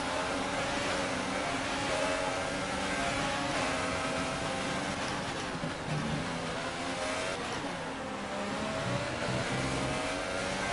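Formula 1 cars accelerating off the grid at the Japanese Grand Prix in the racing game F1 2018, a dense, loud, sustained roar of high-revving engines climbing through gears with no pauses.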